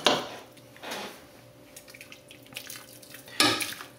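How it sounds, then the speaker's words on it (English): Soup is ladled into a bowl in a home kitchen. The ladle clinks against the pot and bowl in a few sharp knocks, with soft pouring and dripping liquid between them. Nobody talks. "I'm just gonna ladle about 2 or 3 ladles of soup in the bowl"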